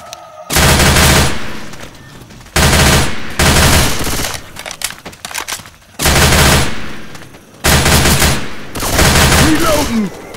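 In Left 4 Dead 2, a machine gun fires in four long loud bursts of rapid automatic shots separated by short pauses.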